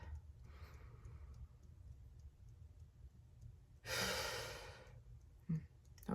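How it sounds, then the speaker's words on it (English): A person takes a deep breath in and then lets out a long, audible exhale, close and fairly quiet, with a softer breath afterward and no speech. "Take another deep breath."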